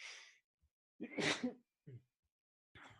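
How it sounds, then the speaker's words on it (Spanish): A single person sneezes once, with a sharp sharp inhaled breath before it and a few quiet breaths and sniffs after, close and clear in an otherwise quiet room. "un estornudo, un estornudo viene a cortarme justamente el pensamiento"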